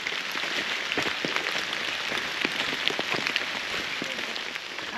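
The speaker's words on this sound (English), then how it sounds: "it's pouring down rain" Heavy rain pours steadily on a hiking trail near Cheaha during an Alabama Triple Crown trek, a dense, continuous hiss with close drops pattering throughout.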